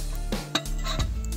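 A camping cookware set, with a 650 ml mini kettle, a 1-litre pot, a half-litre frying pan, a shared lid and plastic folding handles, clinks a few times up close in short metallic knocks. Nobody speaks.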